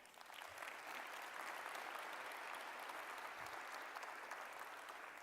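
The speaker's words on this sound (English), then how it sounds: "And now we can really cheer." Audience cheering and applause at a community address given by a city mayor, a sustained wash of clapping from a large crowd at moderate volume, holding steady for several seconds without speech.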